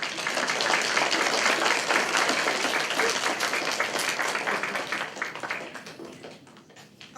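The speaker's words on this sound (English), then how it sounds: "Let's give Mary Copeland another round of applause." An audience at a children's book event claps in a loud, sustained round of applause that gradually thins out toward the end.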